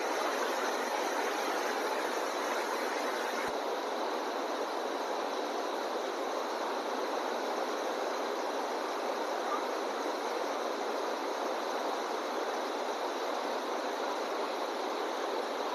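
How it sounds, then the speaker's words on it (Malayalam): Water flowing out of Peechi dam, a steady broadband rush without a break, loud and continuous like a stream or spillway, with no voices. "ഇതാണ് ഇപ്പോൾ വെള്ളത്തിന്റെ ഒഴുക്ക്"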